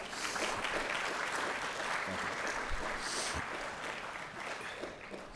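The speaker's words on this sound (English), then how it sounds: "Let's all give them a round of applause, please." Luncheon guests at a minority participation in STEM event give a brief round of applause for a Virginia State University mechanical engineering professor: moderately distant, even clapping that continues without pause.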